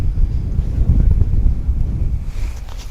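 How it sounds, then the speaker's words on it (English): Gusty wind buffets the microphone outdoors at DFW Airport, a loud continuous low rumble with surging gusts that ease slightly toward the end, no voices present. "Wind's getting a little gusty here today."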